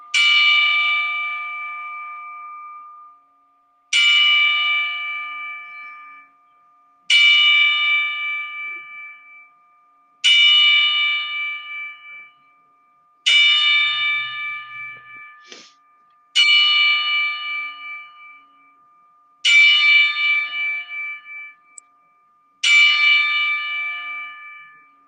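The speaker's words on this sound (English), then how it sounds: "So let me kick this 10-bell in here." A bell struck ten times for a ten-bell salute, each ring a bright, clear ding that decays slowly, evenly spaced about every three seconds, loud and close with no talking.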